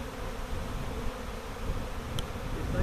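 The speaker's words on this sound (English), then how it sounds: "10 minutes ago there wasn't a quarter of this many bees flying around" A honey bee swarm flies around a box it is entering. The buzzing forms a soft, steady, unbroken drone of many bees, fairly faint and with no voices.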